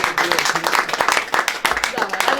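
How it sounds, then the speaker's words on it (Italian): Audience applause at a Sicilian San Giuseppe altar family celebration, many hands clapping in a lively, dense burst nearby, with a voice briefly heard among the clapping. "applauso a Giancarlo"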